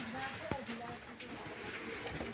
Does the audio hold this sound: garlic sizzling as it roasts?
no